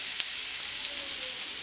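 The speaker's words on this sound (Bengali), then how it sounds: "প্রেশার কুকারে তেল দিয়ে দিছে, তেলের মধ্যেই এখন সিম বেগুন আলু পেঁয়াজ" Beans, aubergine, potato and onion frying in oil in a pressure cooker, giving a steady hissing sizzle with a couple of faint sharp ticks near the start.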